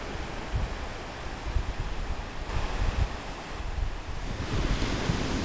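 Ocean waves break along the El Salvador coastline, a continuous rushing surf with rolling swells, heavy wind buffeting the microphone, and no voices.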